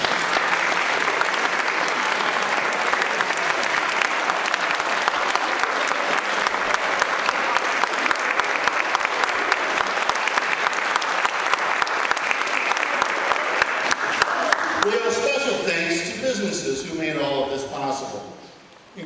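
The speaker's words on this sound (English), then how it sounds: "please stand and accept our warm applause" Warm, sustained applause from a community audience at a Juneteenth strawberry social program, a dense steady wash of many hands lasting about fifteen seconds before fading as a voice begins speaking.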